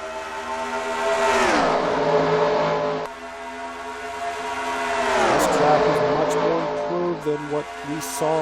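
NASCAR-style race cars in a video game roar off at a green flag start, engine notes climbing and sweeping past in waves, with a commentator talking over them.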